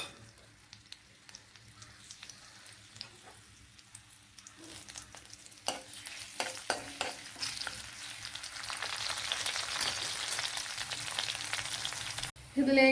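Garlic, ginger and green chili fry in coconut oil for a Kerala brinjal curry. A soft sizzle builds into a louder, crackling spatter, with a few scattered pops and a clatter at the end.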